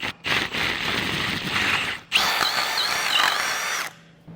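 A power drill enlarges a hole in the frame rail of a 2016 Jeep Wrangler, whining in two close, loud bursts with grinding bit chatter and a short pause between them.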